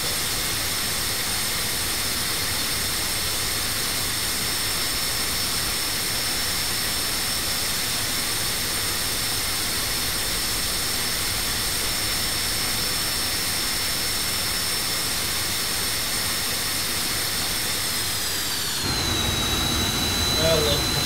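An aircraft engine in a flight simulator game roars steadily as it is throttled up on concrete, a loud continuous jet-like whine holding for nearly twenty seconds before shifting pitch near the end.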